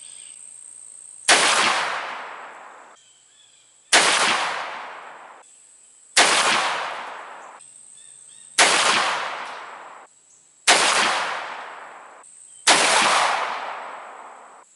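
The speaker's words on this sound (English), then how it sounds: "Well, that's 5 shots at 50 yards." Six loud, sharp shots from a Ruger Old Army black-powder revolver with a 14-inch barrel, fired at a 50-yard target, come evenly spaced a couple of seconds apart, each with a ringing decay, with no talk.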